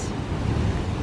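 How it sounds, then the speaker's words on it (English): Steady broadband rush of surf near a pier on the Outer Banks of North Carolina, with low rumbling, continuous and fairly loud, no voices. "Waves."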